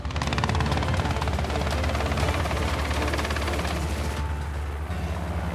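Helicopter flying low over a game capture boma during a giraffe capture in South Africa, a loud, steady rapid rotor thudding that fills the whole stretch without a break.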